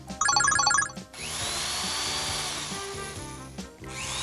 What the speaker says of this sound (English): And a drill drilling.